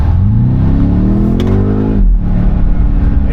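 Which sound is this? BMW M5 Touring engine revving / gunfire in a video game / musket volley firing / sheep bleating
BMW M5 Touring engine revving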